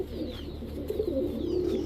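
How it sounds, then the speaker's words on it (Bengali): Silver pigeons kept for sale coo in low, rolling murmurs that run continuously and fairly close, several birds overlapping with no voices. "এক জোড়া সিলভার কবুতর একদম 1300 টাকা"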